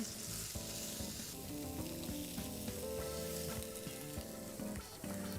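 Sauce sizzles in a heated saucepan with a steady hissing fry, close and continuous, set against background music.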